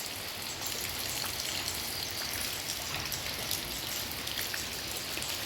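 Heavy rain pours steadily with gusting wind in Thailand, a dense, continuous hiss of drops striking surfaces that stays loud and even throughout, with no voices.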